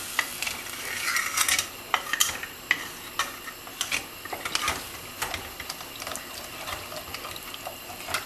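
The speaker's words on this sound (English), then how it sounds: "Now what you do is give it a very good mix." Soft scraping and clinking of a spoon stirring a mixture in a pot, irregular quick strokes, close and quiet with no talking.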